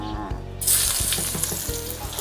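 A sudden burst of loud sizzling as garlic hits hot oil in a wok, then a steady crackling fry continues, close up, over a low background hum.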